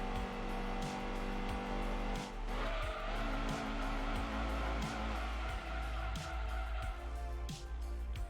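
A race car in Gran Turismo 2 brakes hard into a corner with a loud engine drone, then a long tire squeal and skid. The engine roar continues steadily afterward.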